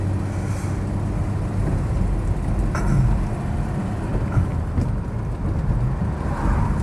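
A Rover 100 P4 with a six-cylinder engine cruises along at around 60 to 70 mph, a steady low engine drone and road rumble heard from inside, continuous with no talking.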